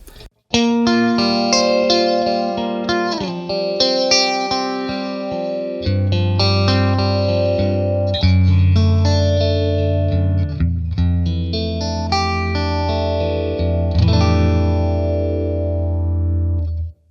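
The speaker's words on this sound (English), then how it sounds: "Let's look at the phaser." An electric guitar plays sustained chords and single notes through a phaser effect on a TONEX FX pedal, with a sweeping, swirling tone that rings out loudly and continuously.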